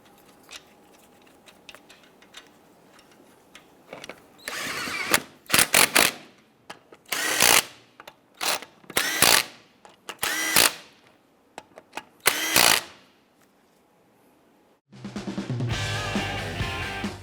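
Power tool snugging down lug nuts on a 1995-2001 Ford Explorer front wheel after a CV axle replacement, a series of short sharp bursts with pauses between, followed by a steadier mechanical whir at the end.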